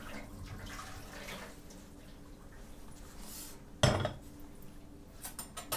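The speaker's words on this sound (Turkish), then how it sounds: "Şu suyu boşaltıyorum." Water pours and splashes out of a pot into a sink, with a sharp metallic clank partway through and light clinks of cookware.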